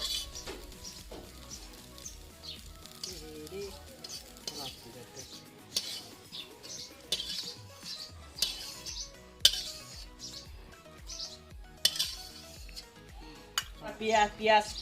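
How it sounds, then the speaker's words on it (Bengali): A fried egg is lifted from an oily pan into a bowl while village-style egg chow mein is cooked. A metal spatula scrapes and clinks against the pan and bowl over a soft sizzle, with a voice talking now and then. "চলো ডিমটাকে আগে তুলে নিই একটা বাটির মধ্যে।"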